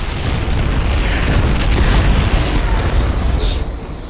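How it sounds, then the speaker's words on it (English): An electric nuke silo explodes when destroyed in the video game StarCraft 2, giving a loud, sustained rumbling blast with deep bass that holds for several seconds before easing off. "a gigantic electric nuke silo that explodes when it's destroyed"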